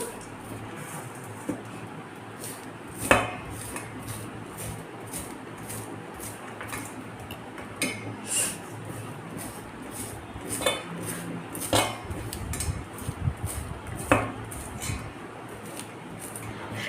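A knife chops a banana flower into small pieces, with sharp irregular clicks of the blade against a board over a faint background hum.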